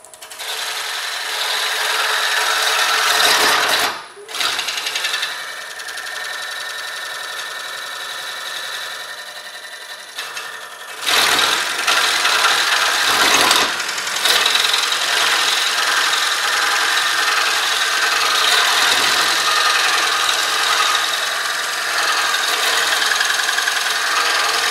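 Wood lathe turning a bowl blank mounted on a screw chuck, a tool held into the spinning wood with light wiggling, giving a steady close scraping rasp for most of the stretch, broken by a couple of brief dips.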